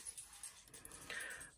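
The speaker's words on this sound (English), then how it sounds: "That's my dog moaning." A dog moans indoors, a faint, soft whine rising near the end over quiet room background, with no voices.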